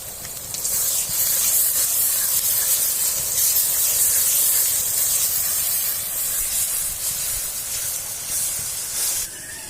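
Garlic paste hits hot oil for chicken curry and sizzles loudly, a bright steady hiss that starts suddenly and holds for nearly ten seconds before cutting off.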